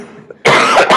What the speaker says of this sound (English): Once again, excuse my cough.